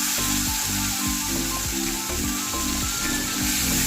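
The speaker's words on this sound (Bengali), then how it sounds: "পেঁয়াজটাকে আমি একটু নেড়ে নেব, হালকা ভাজা ভাজা করে নেব।" Chopped onion sizzling in hot oil with whole spices such as bay leaf and dried red chilli, a steady loud hiss with rhythmic scraping as it is stirred in the pan.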